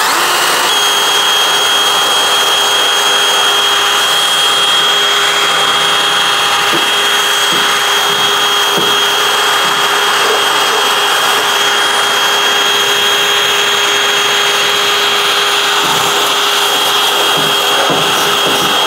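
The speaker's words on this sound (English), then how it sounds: "gonna get into this corner in here with a little whizzer wheelie dealy on the drill and try and clean this out." A drill fitted with a small abrasive wheel grinds rust from the rear window frame of a 1970 Chevrolet El Camino, giving a loud, steady, high whine that runs unbroken throughout.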